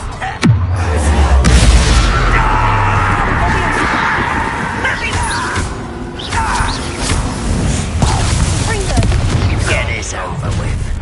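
A loud, heavy fiery blast from the Confringo spell in Hogwarts Legacy, a sharp onset rolling into sustained rumbling combat noise with further impacts scattered over it.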